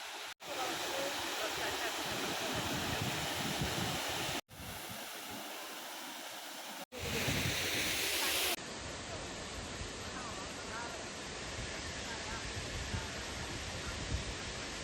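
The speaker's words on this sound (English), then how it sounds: "Now we are again going to see another waterfall." Waterfall near Sohra in Shillong, a loud continuous rushing roar heard close by, broken by a few brief cuts, with voices faintly in the background.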